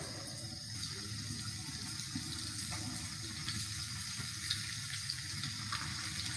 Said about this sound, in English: Get us a nice sizzle.